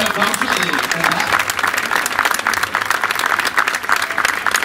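Applause for the maids of honour at a romería pilgrimage: a crowd claps steadily and densely without pause, with some voices mixed into the clapping.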